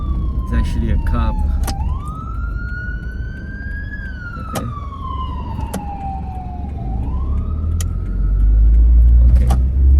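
A police car siren wails through a slow rising and falling sweep over continuous street traffic noise, growing louder as it approaches, with a brief spoken word from someone nearby.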